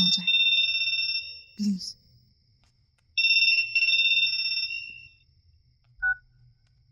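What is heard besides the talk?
phone ringing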